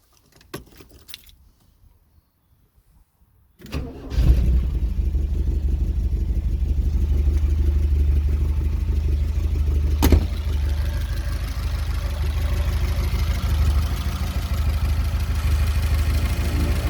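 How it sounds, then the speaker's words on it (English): Keys jangle quietly in a Porsche 924's ignition, then the engine cranks and catches, settling into a loud, steady idle with a brief blip around the middle that continues to the end. "So let's turn the key and get the engine running."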